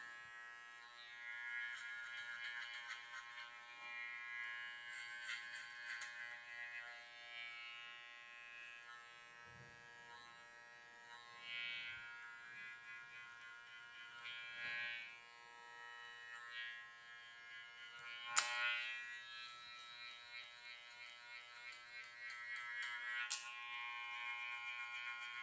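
Electric hair clippers buzz steadily at close range during a men's haircut, cutting clipper over comb through difficult hair. The hum rises and falls as the blade moves, with a few sharp clicks and no talking.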